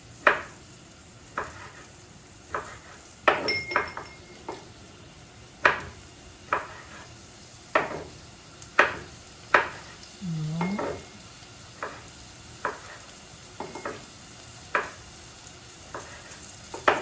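Onions, tomato and pepper sizzle in a pan while a utensil stirs and scrapes steadily, giving regular knocks against the pan over a constant frying hiss.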